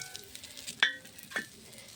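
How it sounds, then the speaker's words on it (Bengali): Chili, cumin and onion hit hot oil in a wok, a quiet sizzle broken by two brief sharp spits or clinks close by, with no talking. "আমি ঝাল জিরা পেঁয়াজ জিরা দিয়ে দিলাম কড়াইয়ে।"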